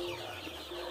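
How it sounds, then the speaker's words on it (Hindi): Sonali chickens clucking on a farm in Baksa district, a steady close murmur of hen clucks filling a brief moment with no voices. "ये गोटे सोनाली मुर्गी है"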